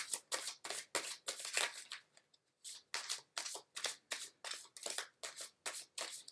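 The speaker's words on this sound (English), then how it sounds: "So when I shuffle them, they kind of stick together." A slick deck of tarot cards is shuffled again and again in quick riffling bursts with brief pauses between, close and crisp, with no talking.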